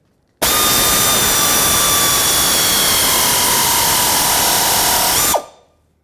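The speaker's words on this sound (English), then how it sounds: "So I tighten these back and forth with my air ratchet" An air ratchet tightens exhaust flange bolts on the oxidation catalyst of a 2008-2010 Ford F-450 Super Duty, one steady loud pneumatic whir running about five seconds before cutting off abruptly, with no voices.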